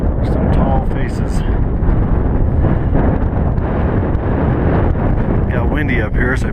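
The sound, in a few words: wind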